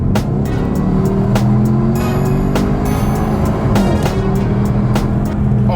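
A Mitsubishi Evo X in sport mode pulls hard under acceleration, a loud steady engine roar heard from close range, continuous and without voices.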